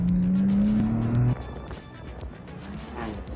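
A loud, high tire squeal from a BMW M4 on an autocross course rises over engine noise for about a second, then drops away, leaving a rumbling car and road noise.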